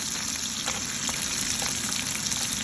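Fish fries in a pan of hot oil with a loud, constant crackling sizzle, unbroken by any voice.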